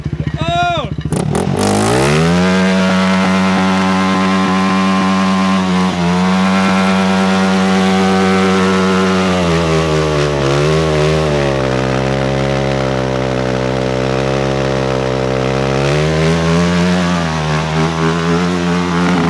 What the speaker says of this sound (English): try and do a wheelie with the gym weight ATV tires